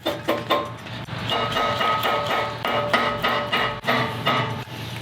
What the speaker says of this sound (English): We'll grab a rubber mallet, tap her down.